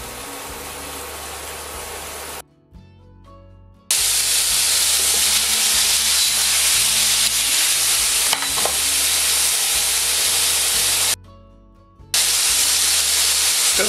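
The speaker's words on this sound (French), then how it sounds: "Ce que vous devez faire quand vous faites rissoler ce genre de viande qui est marinée" Marinated venison browning in a hot frying pan for a civet, a loud close sizzle and hiss that cuts out twice briefly and resumes at full strength, no talk.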